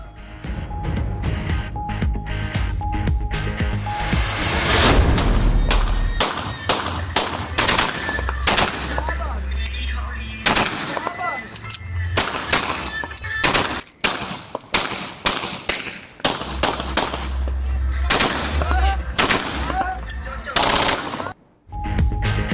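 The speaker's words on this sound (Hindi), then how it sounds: "फिरोजवाला में इफ्तार के बाद फायरिंग की फुटेज 92 न्यूज को मिल गई।" Indiscriminate gunfire after an iftar gathering in Firozwala, captured in news footage: rapid bursts of shots crackle repeatedly amid crowd noise and shouting, loud and chaotic with brief lulls between volleys.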